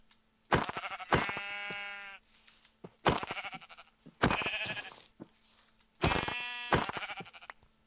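Loud sheep bleats in a Minecraft-style survival video game come in four clear bursts, close up and evenly spaced, each a wavering, nasal call.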